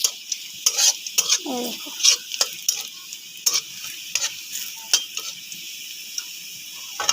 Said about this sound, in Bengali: একটুখানি নেড়ে চেড়ে পেঁয়াজগুলো হালকা কালার হয়ে যাচ্ছে